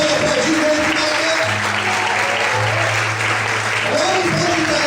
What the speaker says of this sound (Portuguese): Sabe que você pode aplaudir o homem que não é?